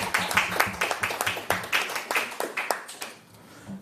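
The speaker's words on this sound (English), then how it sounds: "I believe that deserves a round of applause." A crowd applauding steadily, many hands clapping in a dense burst that fades away near the end.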